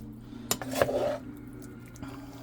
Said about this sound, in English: I'm going to go ahead and just kind of mix this together